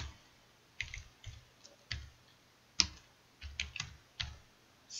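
Sparse, hesitant keystrokes on a computer keyboard, single clicks and short clusters tapped unevenly in a quiet room, fairly close.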